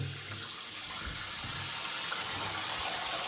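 Tap water runs steadily into a sink while getting ready for a classic wet shave, a continuous close splashing stream with no talking.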